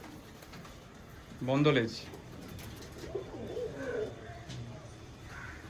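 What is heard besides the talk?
Teddy and Malbai pigeons cooing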